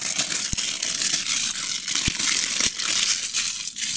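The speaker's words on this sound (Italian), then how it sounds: "partiamo togliendo la pellicola" Protective plastic film is peeled off the box of a Riitek Rii Mini i8+ wireless keyboard, making loud, close crinkling and crackling with a few sharp snaps, continuous throughout and with no talking.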